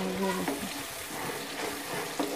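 Tomato paste fries in oil for chicken karahi, giving a close, steady sizzle with soft stirring scrapes and no talking.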